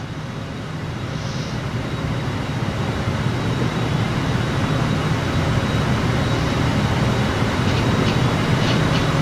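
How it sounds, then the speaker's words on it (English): A steady, rumbling train noise in Transport Fever 2 rolls on continuously at an even volume, a constant mechanical drone with no breaks. "Because this is a train by itself, it's just traveling by itself."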